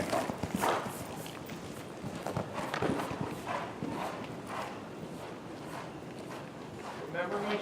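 A horse's hooves clip-clop in rhythmic strides across the arena during a jumping lesson, moderately close, with an instructor talking over the footfalls.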